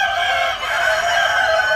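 A large, healthy farm rooster crows loudly and close, one sustained call with a brief dip midway, while hens cluck beneath it.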